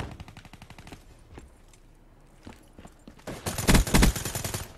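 Call of Duty: Black Ops 3 gunfire, several short rapid bursts of automatic fire with pauses between, the loudest burst near the end.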